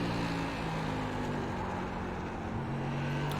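A modified race car engine drones steadily at North Wilkesboro during a Whelen Modified Series race, heard as a sustained, loud, even tone with no talk.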